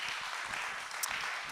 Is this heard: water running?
no